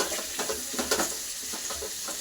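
Onions browned golden in a pan, with tomato going in, give a steady low sizzle broken by scraping stir strokes at an irregular rhythm, close and fairly quiet with no talking.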